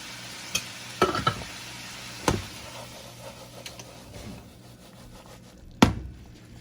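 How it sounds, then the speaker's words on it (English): Mixed vegetables toasting in a pot for garlic turmeric rice, a soft steady sizzle broken by a few sharp scraping stirs and clinks of the utensil against the pot, close and without talk. "Toast all your vegetables before you add it to your rice."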